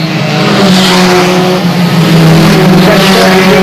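Race cars roar around a speedway track during a big pile-up between turns, a loud, continuous engine drone with sustained tonal whine and some tyre noise and no clear impact.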